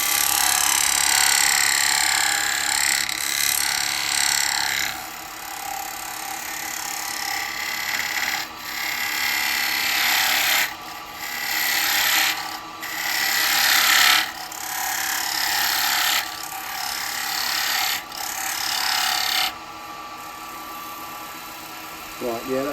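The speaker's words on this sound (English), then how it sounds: "I'm going to start off with a spindle gouge just for this bit." A spindle gouge cuts wood on a running lathe while a side plate is turned. The motor hum is steady and loud, and the bright shaving hiss comes in repeated passes separated by short pauses.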